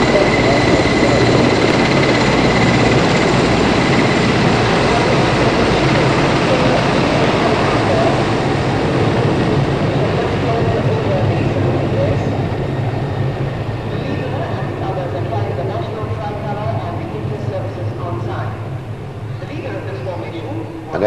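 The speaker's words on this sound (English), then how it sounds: "as the helicopters proceed towards India Gate" Helicopters flying over a Republic Day parade in New Delhi in 1985, a broad steady rotor and engine roar heard from a distance, continuous for the whole stretch under commentary.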